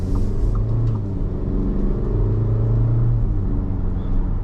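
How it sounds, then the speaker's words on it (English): Engine of a 2023 Audi Q3 droning under throttle from inside the cabin, a steady, fairly loud low rumble with a slight buzzy edge and no talking. "the motor is a little bit loud for Audi standards, so if you get on the throttle a little bit, it does get a little bit buzzy"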